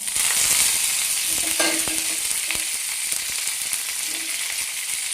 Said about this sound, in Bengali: সর্ষেটা একটু ভাজা হয়ে গেলে এবার দিয়ে দেবো বেশ কিছুটা কারি পাতা